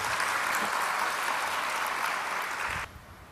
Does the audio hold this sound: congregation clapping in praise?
yes